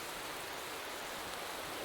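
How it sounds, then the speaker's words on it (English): Steady rain hiss during a wet qualifying session in the Motorsport Manager racing game, a dense, even broadband wash with no breaks, fairly quiet throughout. "it's raining in quali, which I did not see on the forecast"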